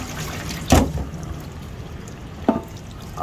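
Water splashes as salted milkfish (bangus) is rinsed by hand in a basin, heard as two short, close, sloshing bursts about two seconds apart with quiet gaps between them.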